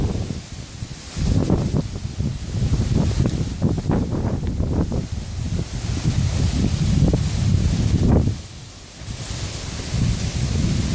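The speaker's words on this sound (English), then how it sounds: "it's windy." Strong hurricane wind from Hurricane Irma in September 2017 roars and buffets in loud, uneven gusts with rushing and rustling, easing briefly near the end before picking up again.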